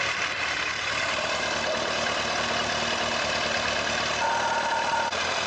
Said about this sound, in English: So the bike has just started right now, and when it warms up, it reaches operating temperature